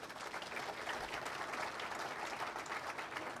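Audience applauding at a Rotary Polio Plus talk, a steady dense wash of many hands clapping at moderate distance, fairly quiet and unbroken, with no talking over it.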